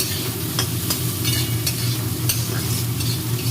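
Cashews and raisins fry in a pan of hot fat, a loud continuous close sizzle with faint scraping from stirring throughout.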